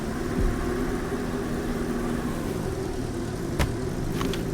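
A car engine in the Roblox game Drive Cars Down A Hill hums at a steady mid-pitched drone, with a couple of brief clicks near the end and no talk over it.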